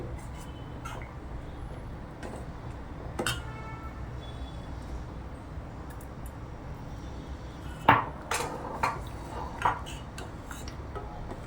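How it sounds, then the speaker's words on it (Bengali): A spoon stirs washed Gobindobhog rice in a pot for payesh, with quiet, scattered scrapes and a few sharp metallic clinks against the pot over a low background hum. "এটা দিয়ে ভালো করে নেড়ে চেড়ে দিচ্ছি।"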